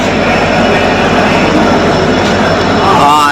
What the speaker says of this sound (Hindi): और ये देखिए हमारी डीजल इंजन